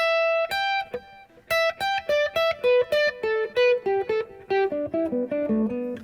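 An electric lead guitar plays a descending run of separate notes, each one bent or slid up from the note below, clear and close with short pauses between phrases.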